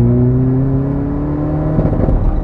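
Skoda Fabia vRS 1.9 TDI diesel engine revving, a steady droning note that climbs slightly in pitch before settling, heard from inside the car with continuous road rumble underneath.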